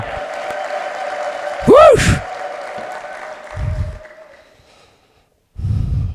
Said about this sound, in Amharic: እስኪ ለዚህ ጌታ ጨብጨባና እልልታ አምጡልኝ።